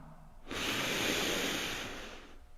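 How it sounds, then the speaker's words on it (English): A single long cleansing exhale during a yoga class, a close, steady breathy rush that swells and then fades out after a quiet start. "So first, cleansing breath."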